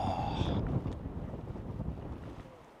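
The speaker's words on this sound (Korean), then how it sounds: "바람 솔솔 불고 물소리 들리고" Wind sweeps through a mountain valley in Tajikistan beside a flowing river below snowy peaks, making a loud, steady broadband rush with continuous water noise and no voices.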